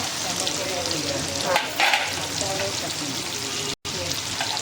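Onion sizzles loudly in a pan as it browns, a dense continuous frying hiss with a few louder bursts of stirring and one brief cut to silence near the end.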